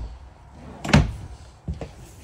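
Dresser drawers in a 2022 Cedar Creek 345IK camper shut with two hollow wooden thuds, a louder one followed a moment later by a softer one, close by over a quiet room.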